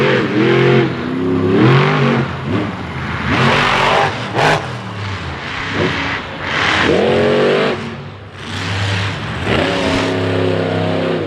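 Monster truck engines roar and rev hard during an arena race, loud repeated surging bursts that climb and fall in pitch, with crowd and venue noise underneath.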